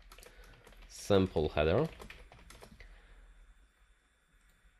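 Quick, close clicking of a computer keyboard as someone types text into an HTML file header. The keystrokes run steadily, with a brief stretch of speech over them.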